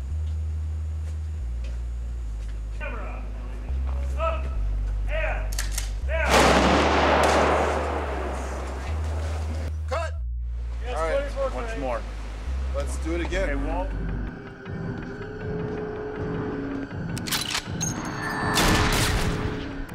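Pyrotechnic explosions go off on a film set, with heavy booms and gunfire-like bursts ringing out loudly amid shouting crew voices and steady background noise.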